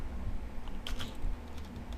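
Rapid typing on a computer keyboard during C programming work, a quick patter of key clicks running through the whole span, close and moderately loud, with no talk.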